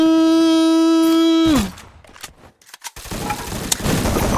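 Rapid gunfire bursts from the Free Fire video game follow a sustained tonal in-game sound, loud and close, with a dense crackle of shots continuing toward the end.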